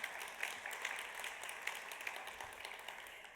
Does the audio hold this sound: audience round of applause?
yes